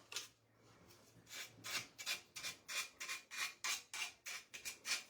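Edge of a decor piece being sanded off by hand, a steady rhythm of about a dozen rasping back-and-forth strokes, close and clear with no talk.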